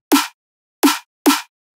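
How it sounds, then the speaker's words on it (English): A punchy, hard-hitting snare drum sample with a strong attack and EQ'd lows, struck three times: one hit, a pause, then two quick hits, loud and dry. "Then I have the fourth snare and sounds like this."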